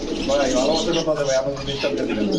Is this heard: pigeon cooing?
yes